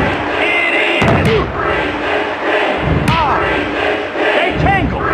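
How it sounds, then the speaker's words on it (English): A wrestling arena crowd roars continuously through a WWF Attitude-era Stone Cold, The Rock and Undertaker match, with loud thuds and slams cutting through the cheering and a commentator talking over it. "This crowd is going berserk."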